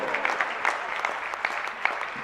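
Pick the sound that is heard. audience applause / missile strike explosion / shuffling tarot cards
audience applause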